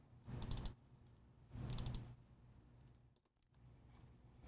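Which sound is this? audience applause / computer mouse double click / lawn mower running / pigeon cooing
computer mouse double click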